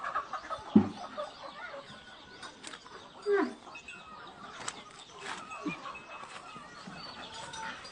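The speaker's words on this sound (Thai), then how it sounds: "ไก่กับพ่อไก่" Hens clucking softly with a rooster among them, a few sharper squawks standing out over a busy, low background.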